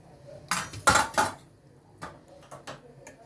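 A utensil stirs Adana-style tarhana soup in a pot, giving sharp metallic clinks and scrapes: a quick cluster of three knocks followed by lighter, scattered taps.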